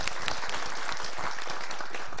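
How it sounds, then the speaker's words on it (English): Applause from a conference audience after a talk on OpenStack telco functions, a steady dense patter of many hands clapping close, with no voices over it. "Or applause, if you prefer."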